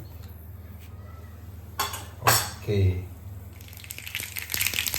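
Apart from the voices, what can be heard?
mustard seeds added to hot oil, spluttering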